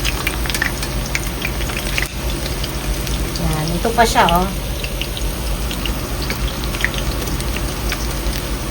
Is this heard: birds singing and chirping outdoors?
no